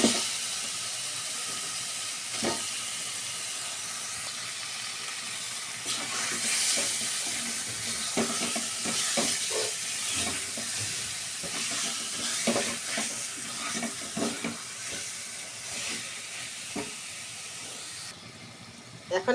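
Fish fried in spiced oil in a pan for a raw-mango curry, giving a soft, steady sizzle and hiss with occasional stirring scrapes, quiet and close.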